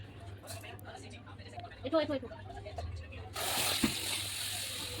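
Olives frying in a hot pan for a sweet, sour and spicy olive pickle: a steady hiss of sizzling oil begins partway through, after quieter kitchen clatter, with a voice talking over it.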